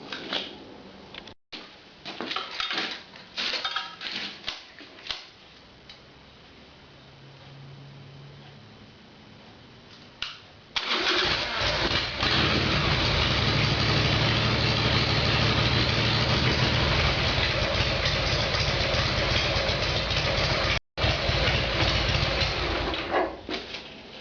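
A Mitsubishi Evolution engine cranks with several short bursts, then catches and settles into a steady, loud idle that runs on continuously after an oil change, close to the car with no talk.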